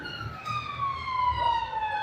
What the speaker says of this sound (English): That's the second ambulance in a space of 5 minutes that is in rush hour